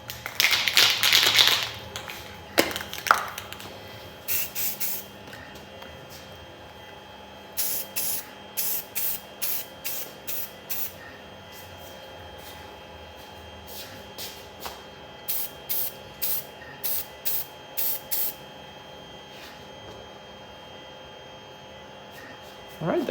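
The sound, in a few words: spray painting silver onto 3D printed helmet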